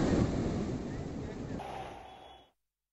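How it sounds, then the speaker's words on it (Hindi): Floodwater tearing down a road in Manali, a fast torrent that stranded vehicles and submerged an auto-rickshaw. A loud, continuous rush with wind buffeting the microphone, easing slightly before cutting off abruptly near the end. "कितनी तेज धारा में पानी अब सड़क पर आ चुका है"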